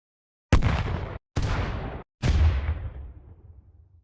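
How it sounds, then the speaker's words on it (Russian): Three grenade explosion sound effects played in turn, each a sharp loud blast with a rumbling tail, separated by brief silences, the last decaying longest. "звуки взрыва гранат, которые мы с вами будем использовать для шара"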